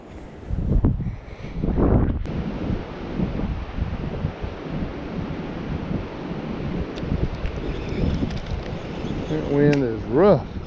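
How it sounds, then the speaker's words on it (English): Strong gusting wind buffets an outdoor microphone while bass fishing, a loud, steady rumbling roar that swells and fades throughout, with a brief higher whistling tone near the end. "That wind is rough."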